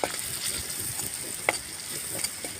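Crab roast fries in a pan with turmeric, giving a steady close sizzle with a few sharp stirring clicks against the pan and no talking.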